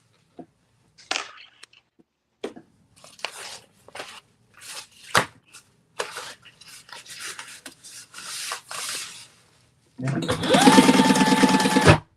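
A sewing machine stitches fabric, first in short scattered bursts of needle clatter between pauses, then a louder steady whirring run at the end.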